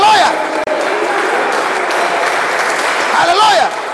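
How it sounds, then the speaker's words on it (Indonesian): A church congregation gathered at a military brigade barracks cheers and applauds loudly for God, a steady wash of clapping and shouting that holds for the whole stretch, with a whooping voice rising briefly near the start and end. "Berikan sorak-sorai buat Tuhan"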